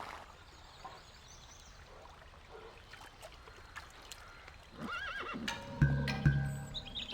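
A horse in a video game whinnies abruptly after a quiet stretch, a sharp loud neigh with a stuttering pitch, preceded by faint ambient game sounds and soft hoof clops.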